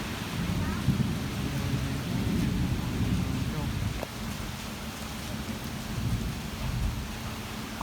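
Heavy thunderstorm with steady, dense rainfall and low rolling rumbles of thunder, a sharper crack near the middle, continuous and fairly loud throughout.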